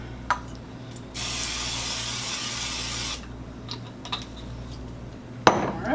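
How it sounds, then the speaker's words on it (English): Cooking oil sprays onto the bottom of an air fryer pan in one hissing burst of about two seconds, framed by a few light metallic clinks and taps against a quiet background hum. "we are going to spray the bottom of the pan, keep the potatoes from sticking"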